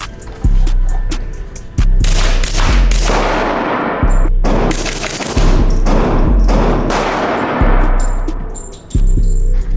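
Gunfire at an outdoor shooting range, with loud, close shots in rapid bursts and strings separated by short pauses, each crack ringing out with a long echoing tail.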